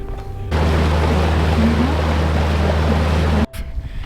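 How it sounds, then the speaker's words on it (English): Strong, cold wind among trees in Glacier National Park buffets the microphone with a constant low roar, then cuts off abruptly near the end. "It is cold and windy"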